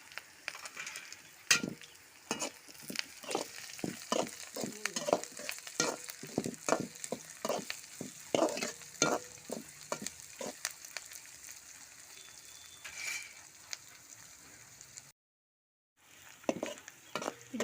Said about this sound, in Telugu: వెల్లుపాయల్ని ఇందులో వేసుకుందాం వేశాక ఒకసారి బాగా కలుపుకోవాలి